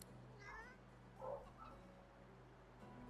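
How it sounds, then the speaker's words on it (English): A cat character in the video game Divinity: Original Sin II gives a couple of faint meows over a steady low game hum, with no talk. "He stares at the fish and meows, a mixture of pleasure and pain."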